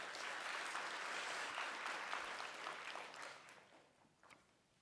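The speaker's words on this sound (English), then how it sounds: "Can you give him a round of applause as well for his help?" Steady applause from a large crowd at a nursing graduation ceremony, heard from a distance, holding for several seconds before thinning out and fading.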